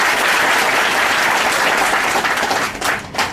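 Loud, dense applause from a crowd at a Hindi-language news event honouring teachers and parents, a steady roar of many hands clapping close by that tapers off slightly near the end.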